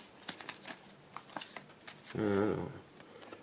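Pokémon trading cards handled at a French flea market, with a series of light flicks and slides followed by a brief, louder riffle of cards, while a voice talks over it.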